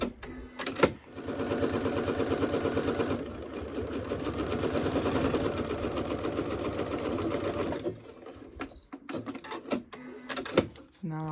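Sewing machine stitching together quilt block fabric, a steady fast mechanical whir with clicks running for several seconds, then a short back stitch and pauses with handling noises; a voice talks over parts of it.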